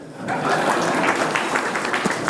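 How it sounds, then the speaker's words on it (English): An audience at a marketers' evening event claps after a joking remark, applause swelling in quickly after a brief quiet start and carrying on at moderate volume. "A clap for that."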